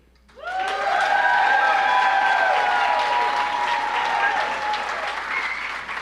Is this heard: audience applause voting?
yes